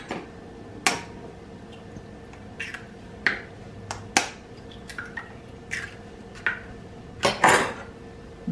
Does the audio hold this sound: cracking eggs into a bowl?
yes